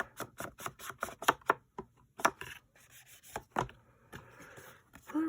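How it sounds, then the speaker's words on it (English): Sharp scraping strokes rub against the trimmed paper edge of a junk journal mail folio cover, a quick run of close rasping swipes that slows into softer, scratchier rubbing. "so now I gotta just distress the edge"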